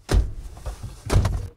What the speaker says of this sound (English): And we have those doors being slammed.